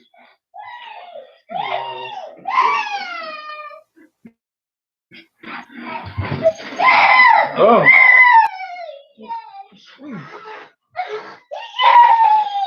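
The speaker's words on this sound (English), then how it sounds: "you're gonna hear my son scream in the background" A young boy screams in the background while puppies are brought in at home, with high, wailing cries in repeated bursts, some long and some short, amid nearby talk.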